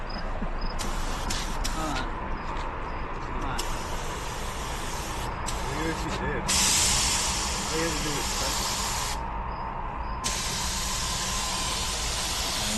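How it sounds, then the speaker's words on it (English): Bursts of spray-paint hissing start and stop repeatedly from a nearby can or sprayer painting a drift quad, with a low background rumble between the sprays. "It's spraying paint now."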